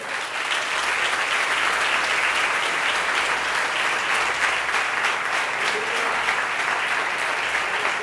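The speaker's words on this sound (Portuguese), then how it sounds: "Põe força na tua mão e aplauda o Senhor." A church congregation at an evening service clapping together in praise, loud and continuous dense applause filling the space for the whole stretch, with little else audible.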